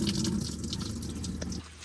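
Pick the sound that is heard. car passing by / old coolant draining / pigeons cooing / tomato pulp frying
old coolant draining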